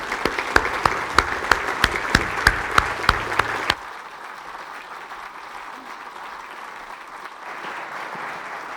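Clapping from a lecture audience welcoming guests Alan Johnson and Becky Huxley-Binns in Hull, a few loud close claps leading a brief round of applause that stops abruptly, leaving quiet room tone.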